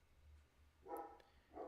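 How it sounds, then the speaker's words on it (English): A pet dog barks twice in the background, faint and somewhat distant, two short separate bursts in an otherwise quiet room. "apologize for my dog barking in the background."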